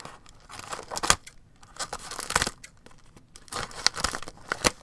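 Scissors or a blade slitting open a yarn package from Delicious Yarns, with repeated sharp tearing and crinkling bursts of plastic or paper packaging close by, no talking.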